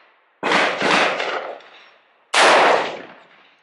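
Two loud AR15 rifle shots ring out about two seconds apart outdoors, each a sharp crack followed by a long rolling echo that fades over a second or more.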